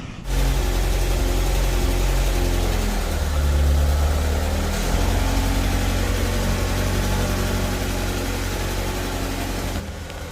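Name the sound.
Honda Prelude engine running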